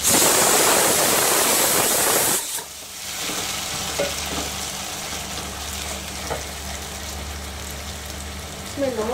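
Chopped medium onions frying over a high flame in a pan, with a loud hissing rush at first that settles into a steady sizzle with stirring scrapes.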